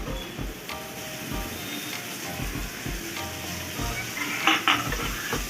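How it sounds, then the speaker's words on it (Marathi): Onion, ginger-garlic paste and tomato frying for pav bhaji, a loud, close sizzle under repeated rhythmic scrapes and clinks of a spoon stirring in the pan. "थोडंसं खालीवर करून घ्यायचं मिक्स करून घ्यायचं चांगलं"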